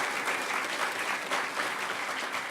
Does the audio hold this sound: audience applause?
yes